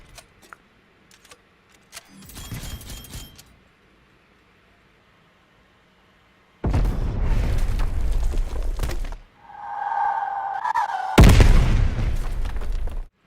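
In the Black Ops Cold War video game on the Zoo map, a gunshot lands as a sudden booming burst, followed by further loud bursts and a whining tone, set against near silence.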